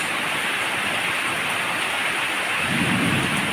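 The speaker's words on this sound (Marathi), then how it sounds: "हा सुखद गारवा आणि हा सुरू असलेला पाऊस" Steady, dense pre-monsoon rain in Pune hisses continuously, loud and close, with a low rumble rising near the end and no voices.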